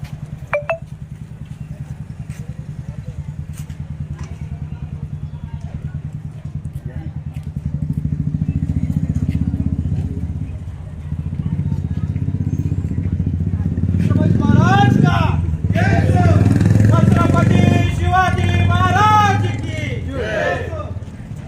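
Motorcycles at a Samata Sainik Dal bike rally rumble in a steady, continuous engine drone that swells louder partway through, with a crowd chattering and shouting over the engines toward the end.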